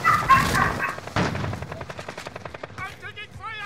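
Gunfire in a Call of Duty: Modern Warfare mini royale match, heard as rapid, close automatic shots in quick, even pulses. The shots are mixed with game sounds and voices.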